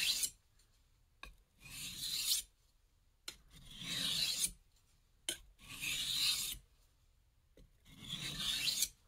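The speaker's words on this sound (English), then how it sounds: "Now I'm ready to do my micro bevel." Knife blade being sharpened on a stone to form a micro bevel, with four slow, even rasping strokes separated by short quiet pauses, close and fairly faint.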